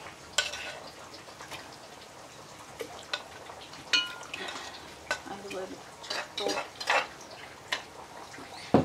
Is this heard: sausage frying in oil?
yes